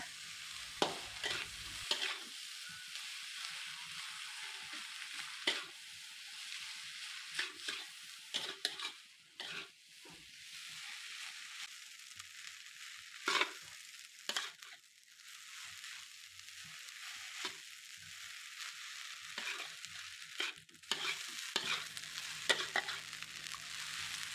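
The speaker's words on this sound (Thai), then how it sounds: "ในการผัดจะใช้ไฟกลางตลอดนะคะ" Egg fried rice is stir-fried in a pan over medium heat, with a continuous close sizzle and repeated scraping, clattering strokes of the spatula against the pan, and no talking.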